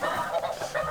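A dense flock of geese honking continuously at close range on Kansas public land, loud overlapping calls filling the whole moment with no talk.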